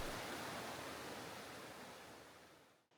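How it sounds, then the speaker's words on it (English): A clear, cold mountainside stream flows in a steady broadband rush, close and constant, fading out at the very end. "beholding the enchanting riparian splendor of a mountainside stream"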